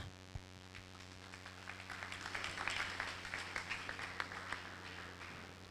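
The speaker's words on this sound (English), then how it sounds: "Another round of applause for the Honorable Minister." Applause from a university lecture audience for a government minister at an employment clinic builds gradually into a soft, distant wash of clapping over a steady hum.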